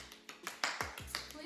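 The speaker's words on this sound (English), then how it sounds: "That's what you call a round of applause." Hand clapping in a handful of sharp, uneven claps, close and fairly quiet, spread through a short burst like a small round of applause, with a voice's low tones mixed in among the claps.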